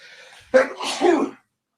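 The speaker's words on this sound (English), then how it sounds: "I got the drunk sneezes." A couple of sharp, close sneezes in quick succession, loud bursts with a breathy tail, no talking around them.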